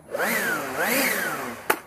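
A Kobalt 40V cordless leaf blower running on a CaliHutt 40V 6.0 Ah replacement battery, a loud whirring motor whose pitch rises and falls twice before a sharp click near the end.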